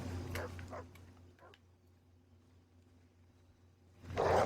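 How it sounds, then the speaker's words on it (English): A few short dog barks and yips early, then quiet, then a louder whimpering or yelping burst near the end, heard over a low steady background hum. "Invisible dogs!"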